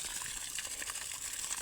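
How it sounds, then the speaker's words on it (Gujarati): Water runs steadily from a tap with a faint, even hiss and splash. The flow continues without a break, and no one speaks. "અહીંયા પાણી આવે"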